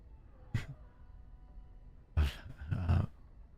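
A big dog growls low at a door in the video game Dragon Age: Origins, with three short rumbling bursts separated by quiet, the last two close together.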